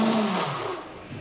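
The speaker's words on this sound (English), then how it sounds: "Really be slow with your blender. I'm barely bringing the button up." A blender on a slow, low setting mixing crepe batter for mushroom crepes, giving a steady, close whir that eases slightly in level and continues alone with no talk.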